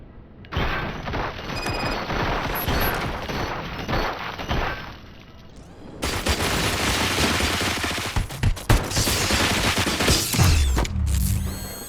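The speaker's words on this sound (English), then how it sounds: "Fire at will." Automatic gunfire in the game Robocop: Rogue City, loud sustained bursts and volleys with mechanical clatter and booming impacts that build in intensity over several seconds.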